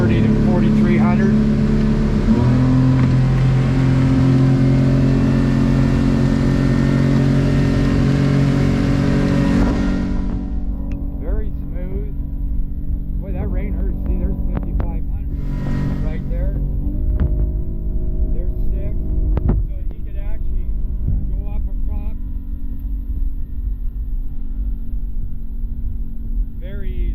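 A Yamaha F250 outboard engine on a 21-foot Seaswirl boat revs under throttle, a loud rising motor roar that drops to a quieter steady hum midway, with people talking over it.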